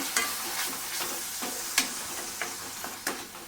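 Fresh coconut paste being stirred and sautéed in a pan, several distinct scraping strokes of a spatula over a faint sizzle, quiet and close with no talk.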